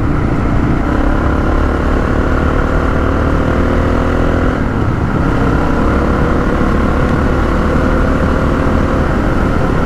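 A Honda XR650L four-stroke motorcycle engine cruises at a steady 50 mph, a loud, continuous drone mixed with heavy wind rush. A brief dip in pitch comes midway.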